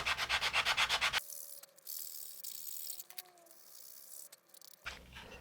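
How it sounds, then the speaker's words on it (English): Rapid rhythmic rasping of 180 grit sandpaper on a sanding tee, rubbed back and forth on a model rocket, then quieter scraping strokes, and the brisk sanding resumes at the end. "I'm going to use some 180 grit sandpaper and my sanding tee"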